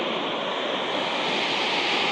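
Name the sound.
river water flowing near Naran hotel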